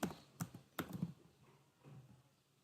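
Keys tapped on a computer keyboard, a few quiet, sharp clicks in a short irregular run that trails off into softer taps, close and alone without speech.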